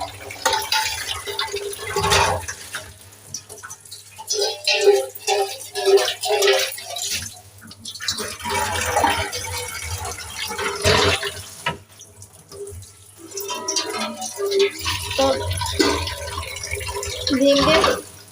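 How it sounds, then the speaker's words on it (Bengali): Dishes and utensils washed under a running tap, water splashing and streaming in uneven bursts with clinks of plates, while someone talks over much of it. "কিছু থালা বাসন হয়েছিল সেগুলো আবার পরিষ্কার করে ধুয়ে"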